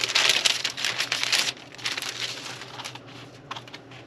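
Scissors cutting quilt fabric for raw edge applique, a run of close crisp snipping and rustling strokes that slows and softens, with no talking.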